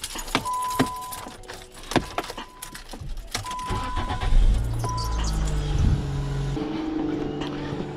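A 2000-2006 Nissan car after a thermostat replacement, with keys jangling, then the engine cranking and catching into a rough running idle, close and moderately loud.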